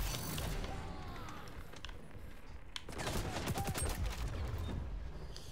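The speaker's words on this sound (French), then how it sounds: "Je lui tire dans les jambes, mais je sais pas pourquoi en vrai" Rapid gunfire rattles in the video game XDefiant, bursts of quick shots with a louder stretch in the second half, fairly quiet overall with faint game effects around it.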